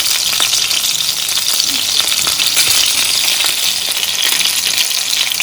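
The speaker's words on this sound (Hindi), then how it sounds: "हमने अपने कबाब फ्राई करने हैं तो हमने इसे मीडियम फ्लेम पे रखना है" Reshmi kebabs fry in a pan over a medium flame, giving a steady, close sizzle that stays even and loud throughout with no pauses.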